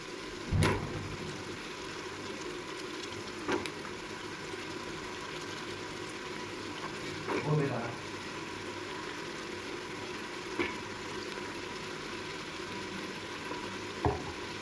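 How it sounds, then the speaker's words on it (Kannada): Tomato with soaked dried peas frying in a pan for a simple pulao, a steady low sizzle throughout with a few sharp clinks and stirring scrapes at intervals. "ಇದನ್ನು ಅಷ್ಟೇ ಫ್ರೈ ಮಾಡ್ಕೊಬೇಕು. ಈಗ ಇದು ಫ್ರೈ ಆಗ್ತಾ ಇದೆ."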